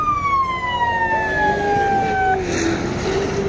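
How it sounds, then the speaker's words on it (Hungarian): A siren wails from a small classic Polski Fiat at a retro car meet, loud and close, its tone sliding downward in long falling sweeps before settling lower. "És szirénázik a Kispolszki."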